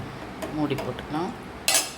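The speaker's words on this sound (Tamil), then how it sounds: "மூடி போட்டுக்கலாம்." A lid is set on a cooking pot of rice with turmeric, salt and water, giving a bright metallic clink near the end after some soft handling and stirring sounds of kitchen utensils.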